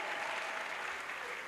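Dense, steady applause from a large crowd at an evangelism crusade, a continuous wash of clapping that stays loud and even throughout.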